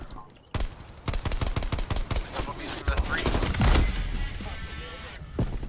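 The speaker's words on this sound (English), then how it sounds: "Oh, that's a shotgun, Lamau." Rapid shotgun blasts and gunfire in the Black Ops Cold War beta, a series of sharp close shots in quick bursts, mixed with players talking over the action.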